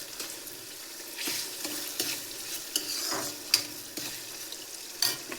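MTR puliyogare mix with a spoonful of sugar being stirred in a pan, soft frying sizzle under repeated spoon scrapes and knocks against the metal, fairly quiet and close.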